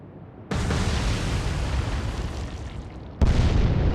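Torpedo strikes on an enemy ship in the naval game Atlantic Fleet erupt into a long, roaring explosion that sustains for several seconds, followed by a second sudden heavy blast at the end.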